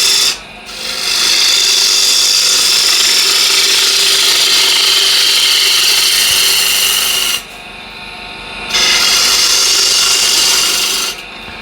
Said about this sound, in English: with a spindle gouge, I just put a little OG shape here.